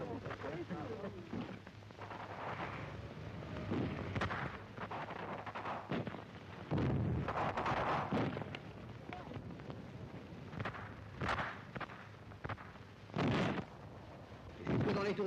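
Battle for Paris, 1944: heavy gunfire and explosions rumble in repeated loud bursts over a constant noisy background, with booms scattered throughout and strongest toward the end.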